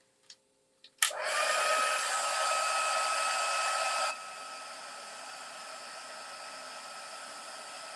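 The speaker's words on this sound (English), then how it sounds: "And I'm heat embossing this." After a couple of soft clicks, a heat embossing tool switches on and blows hot air with a loud, steady whooshing hiss, then drops to a quieter, constant rush for the rest.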